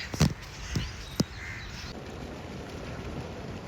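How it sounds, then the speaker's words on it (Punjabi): A few loud, harsh bird caws near the start, then a quieter outdoor hiss with faint background calls. "ਜਿਆਦਾ ਪੰਛੀ ਉੜ ਰਹੇ"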